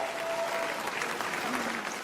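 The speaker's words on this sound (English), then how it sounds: "Round of applause." Steady applause from a stand-up comedy audience fills the room at moderate volume, a continuous patter of clapping from many hands.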